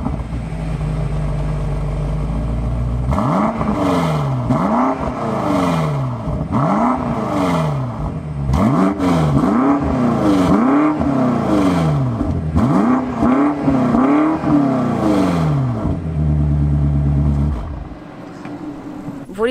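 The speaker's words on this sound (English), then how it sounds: "In the meantime, let's start up the car." BMW M8 Competition Convertible starting up and revving, a loud close engine with a series of repeated rising and falling revs over a steady idle that drops off near the end.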